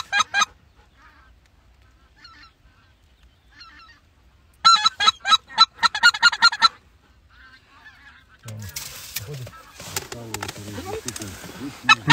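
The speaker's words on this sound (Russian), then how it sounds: "Слышите, гуси кричат?" Geese honk during a goose hunt from a hide, at first sparse and distant, then a loud burst of rapid overlapping honks, followed by people talking nearby.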